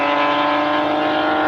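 A BMW M5 CS launches in a drag race, its engine pulling at a loud, steady high-revving tone with dense harmonics for a short burst.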